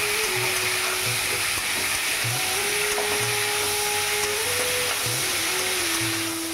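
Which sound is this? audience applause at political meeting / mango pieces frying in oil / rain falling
mango pieces frying in oil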